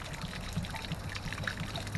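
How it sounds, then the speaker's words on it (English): Water trickles and dribbles steadily out of a 6-gallon RV water heater tank as it drains during winterizing, a soft continuous flow, quiet and close, with no voices. "let all the water run out"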